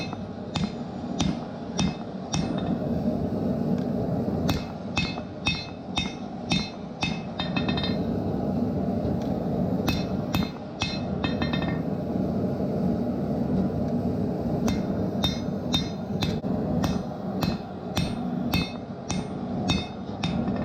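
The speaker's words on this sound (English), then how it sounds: "throw them in the forge, and then flatten them" Steel being forged flat for a medieval flail, struck again and again by a hammer in a steady run of sharp, ringing metallic blows. The blows pause only briefly, over a low workshop rumble.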